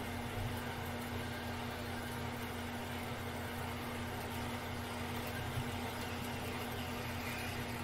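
A lathe cuts brass with a sharp tool and a little cutting oil, producing a steady, unbroken mechanical hum with a constant motor tone and a hiss of broadband noise.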